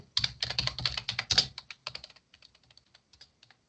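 A computer keyboard being typed on to enter a prompt into ChatGPT: a close, brisk run of clicking keystrokes that begins dense and loud, then slows into sparser, softer taps toward the end, with no talking.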